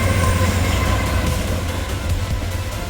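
A loud freight train led by a Tier 4 GE Evolution locomotive rumbles past close by, heavy low engine drone with the steady clatter of rolling cars, no voices.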